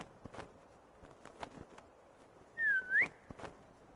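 A character whistles in Assassin's Creed Chronicles China: one short, clear, dipping-then-rising whistle, with soft footsteps and faint taps spread around it.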